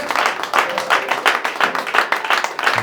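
A church congregation clapping hands in quick rhythmic bursts, loud and close, steady beat throughout with no talk.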